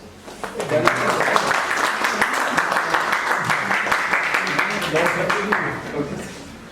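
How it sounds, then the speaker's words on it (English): An audience at a medical meeting on keratoconus claps in welcome for Dr. Prashar: a dense, sustained round of applause that swells quickly, holds steady for several seconds and then tapers off. "We welcome Dr. Prashar. The huge round of applause."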